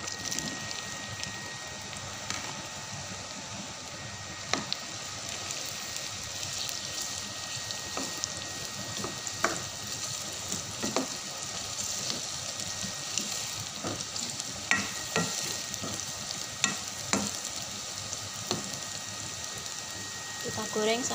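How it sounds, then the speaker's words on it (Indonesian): Tempeh sizzles while frying in a pan, a steady crackling hiss scattered with sharp pops and spits, fairly quiet and continuous throughout, with no talking over it. "Kemudian saya goreng."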